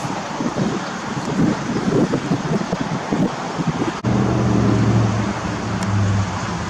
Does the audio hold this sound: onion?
no